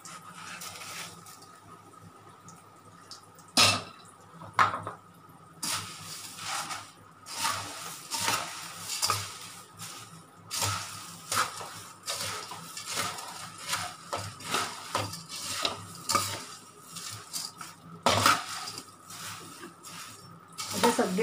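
Roasted puffed rice poured and stirred into a spiced tempering in a pan, producing irregular dry rustling and scraping with sharp utensil clanks, close and moderately loud.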